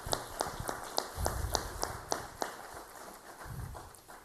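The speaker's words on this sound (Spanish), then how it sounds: "Les pedimos un aplauso para recibirlo." Sparse, sharp hand claps ring out at a fairly even pace, thin and moderately distant, as an audience welcomes the Palestinian ambassador at an open class on human rights.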